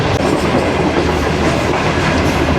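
The Farid Express passenger train rolls along the rails, a loud, continuous rumble with rhythmic clickety-clack from the wheels, heard up close from on board.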